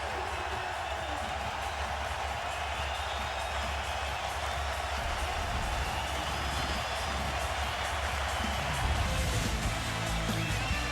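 An NBA playoff crowd in a Golden State Warriors arena roars steadily during Game 3 against the Mavericks, a dense, continuous wall of cheering that swells slightly near the end.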